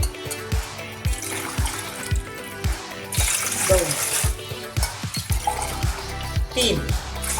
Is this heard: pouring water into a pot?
yes